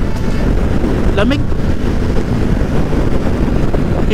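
Strong wind roars and buffets the microphone during a motorcycle ride toward Baguio on a Kawasaki Ninja 650, a steady loud rush throughout with a brief spoken word over it.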